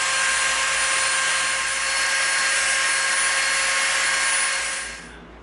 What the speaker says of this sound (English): now we're going to round the edge of this off with the Dremel